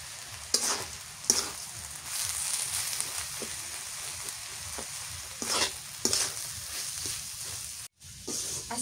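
Spices and goat meat sizzle and fry steadily in a pot for khichuri while a spoon stirs now and then, the stirring scraping through as loud bursts over a continuous close hiss.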